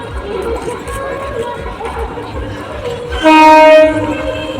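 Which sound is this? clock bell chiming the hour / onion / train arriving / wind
train arriving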